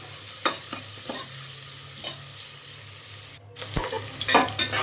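Onions frying in oil for hotel-style tomato bath, stirred with several distinct scraping strokes over a steady close sizzle; no talking.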